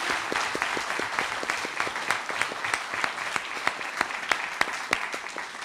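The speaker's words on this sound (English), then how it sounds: "Let's give them a round of applause." Audience applause at a regional spelling bee: steady clapping from a seated crowd with sharper individual claps standing out, continuous for several seconds.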